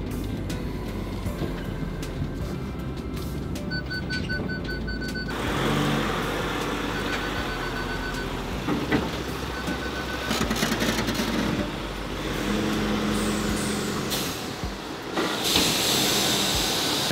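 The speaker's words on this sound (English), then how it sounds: "We're all just slowly, ever so gently driving onto it." Cars and a van roll slowly onto a car-carrying train in the Swiss Alps, a steady low rumble and hiss of engines and rail machinery, with brief clanks and squeals along the way.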